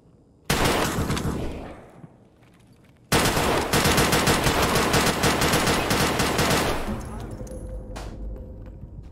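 Gunfire in the video game Escape from Tarkov: a loud burst of shots, a brief lull, then a longer sustained stream of rapid automatic fire that tapers into quieter clinks and rattles at the end.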